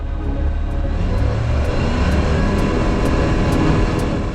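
Microlight aircraft on its takeoff roll at a farm airstrip in a gusty crosswind, engine droning steadily and loudly throughout with constant wind rush and no voices.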